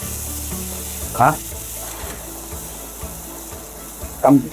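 Aromatics sizzle in a little hot oil at the start of cooking clay pot lettuce, a steady frying hiss with two brief louder clatters of stirring, no talk over it.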